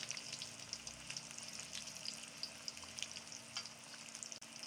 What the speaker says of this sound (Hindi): 5 से 6 समोसे हमने ऐड किए हैं, तो इनको हल्की आंच पे पकने देंगे